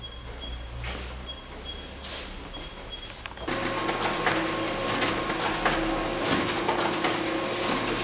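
A laser printer churns out book signatures nearby, a quieter mechanical hum giving way to a louder, steady run of feeding and rolling with faint rhythmic clicks, continuing without talk.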